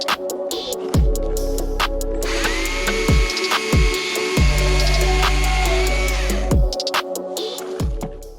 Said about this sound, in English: So while I've got the chainsaw in hand, I cut this up into pieces I can burn later.